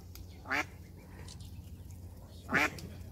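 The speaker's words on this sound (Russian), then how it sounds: "включи камеру, поснимай уточку" A duck gives two distinct quacks, about two seconds apart, fairly close, over a quiet background hum, at a hydropark in Kherson.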